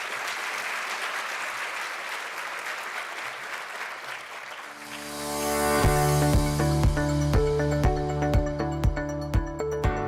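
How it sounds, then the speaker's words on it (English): Applause for three finalists at a school district awards evening, dense clapping for about five seconds, then giving way to loud, sustained music with a steady beat. "let's have one more round of applause for these 3 finalists"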